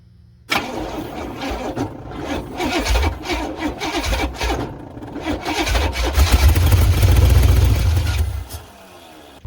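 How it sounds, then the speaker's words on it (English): An 1986 Chevrolet Silverado's carbureted Vortec 350 cranks over on the starter in an uneven, labored churn that seems to catch and hesitate, growing louder and deeper before cutting off abruptly, with no speech. "It's turning over, but then it acts like it wants to lock up for a moment and then it turns over."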